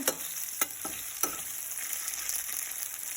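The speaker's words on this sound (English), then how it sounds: "So the eggplant is very crisp, guys. Can you see? It's nicely cooked." Eggplant frying in a pan for a South Indian dish, a steady close sizzle with a few sharp crackles and stirring clicks, no talking.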